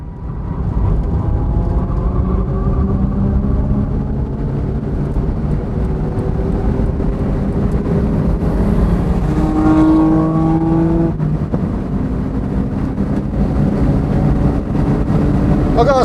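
A £200 Mazda revs hard in third gear toward the rev limiter at about 90 mph on a race track during Japfest, its loud strained engine note climbing through the clip while a voice talks over it.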